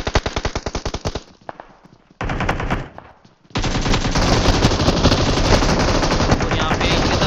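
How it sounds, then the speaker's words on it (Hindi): Loud rapid automatic gunfire rings out in a video game shooter match: fast bursts, a brief lull with quieter shots, then sustained continuous firing to the end. "अकेले अभी बचे हुए जिनके ऊपर पूरा पूरा फायर आ रहा है"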